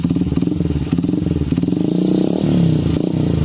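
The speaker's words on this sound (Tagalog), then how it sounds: "Rev natin. 18, 19." A motorcycle engine idles and revs up close, a loud throbbing rattle that rises steadily in pitch during an overcharging check, with no clear talking over it.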